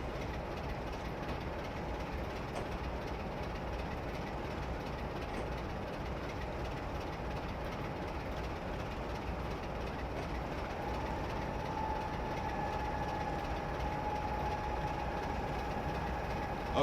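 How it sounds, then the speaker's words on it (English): A distant train moving along a railway line on the West Coast Main Line near Polmadie, heard as a faint steady rumble with a soft engine drone and a thin rising whine toward the end. "Very, very loud train over there somewhere."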